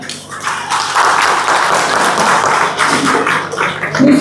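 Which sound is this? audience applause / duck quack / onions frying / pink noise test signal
audience applause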